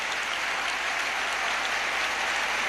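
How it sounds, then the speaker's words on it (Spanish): A basketball arena crowd gives a sustained ovation after a player's blocked shot, a dense, steady roar of applause filling the space at full level throughout with no pauses. "De ahí la ovación del público."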